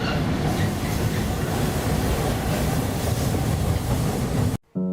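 Cargo train rolling along the rails in Canada, a loud continuous rumble and rattle heard from on board that cuts off abruptly near the end.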